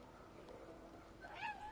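A cat meows in the video game Stray on PS5, one short rising meow near the end, faint behind quiet game ambience.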